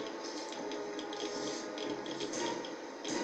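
A character drinks water in Fallout 3, heard as a steady, close wash of running water with a soft splashing texture and no voices.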